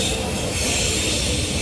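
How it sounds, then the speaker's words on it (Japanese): A train pulls into a station in Hamburg, Germany, on a match day. Its close, loud rumble of wheels and rolling stock is steady throughout, with a faint metallic squeal riding on top. "列車が来ました"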